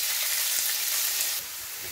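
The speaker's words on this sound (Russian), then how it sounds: "И отправляю овощи." Chopped vegetables sizzling in hot oil in a preheated frying pan, a steady loud hiss close up that drops slightly in level near the end, with no voices.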